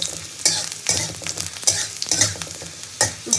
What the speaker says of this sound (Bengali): রসুনটা একটু ভালো করে ভেজে নেব।